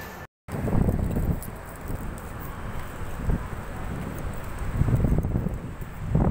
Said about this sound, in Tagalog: Ang hangin pala nito, madam.